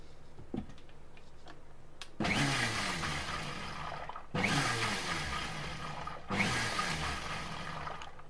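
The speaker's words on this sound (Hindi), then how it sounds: "ऐसे करते हुए आपको बार बार तेल डालना है और घुमाना है मिक्सी को।" A kitchen mixer grinder whirs in three bursts, each starting abruptly and running about two seconds, blending oil into mayonnaise, with quiet clicks and handling sounds between bursts.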